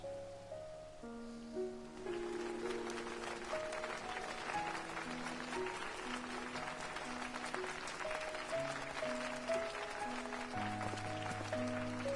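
A crowd cheers in a Final Fantasy XIV cutscene celebrating an Azure Dragoon's investiture in Ishgard, a steady roar of cheering and applause under sustained orchestral music.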